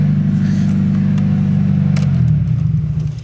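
An SR-Z car with a Dream Turbo setup idles loud and close, a deep steady engine rumble that dips slightly and fades at the end.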